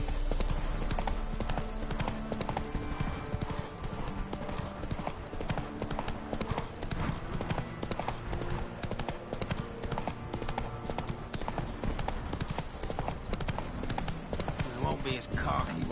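Roach the horse gallops in The Witcher 3, a steady rapid clip-clop of hooves running throughout at even volume, with game music and voices beneath.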